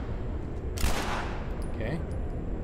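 A single sharp gunshot bursts out in a firefight in The Last of Us Remastered, loud and close against a steady background hum, with brief high tones afterward.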